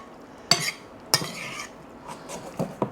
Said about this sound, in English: Just cutting some chives.